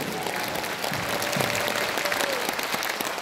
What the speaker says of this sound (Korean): 이 나라와 민족의 애국 운동을 이끌어 가시는 우리 전광훈 목사님께 우리 감사의 박수 한번 드리겠습니다